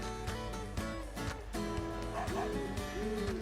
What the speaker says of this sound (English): If you hold down the minus button for the longest you can, and your dog will howl